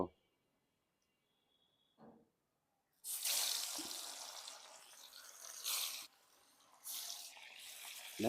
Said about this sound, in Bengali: গরম হয়ে গেছে, এবার মাছটা আমি দিয়ে দেব